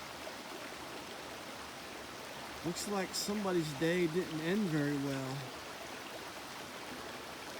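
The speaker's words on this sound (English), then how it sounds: "Getting ready to cross a little stream here." A small mountain stream flows along the Appalachian Trail near Saddleback Mountain, making a steady, broadband wash that runs the whole time, with someone talking briefly in the middle.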